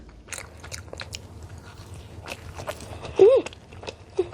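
Someone bites into and chews a sweet, crispy-style doughnut up close, with soft crunchy chewing and a brief murmured voice near the end.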